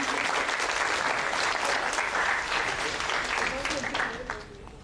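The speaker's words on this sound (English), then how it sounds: "can you guys give me a round of applause?" An audience at a creative talk on caricature and education gives a round of applause. The even clapping is fairly soft and sustained, then thins out and fades in the last second.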